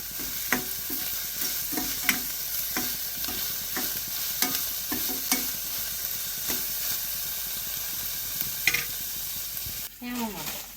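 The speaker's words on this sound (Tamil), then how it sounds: "வெங்காயம் நல்லா கவர்ந்து வரட்டும்" Onions frying and being stirred in a pan for a homemade curry, a steady close sizzle broken by regular scraping strokes of the spoon, with a brief louder clatter near the end.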